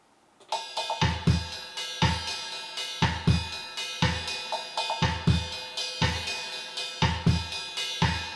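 A programmed drum pattern from EZ Drummer 2 software, with a steady kick drum landing about once per second alongside sustained cymbal and percussion layers, loud and clean with no voices.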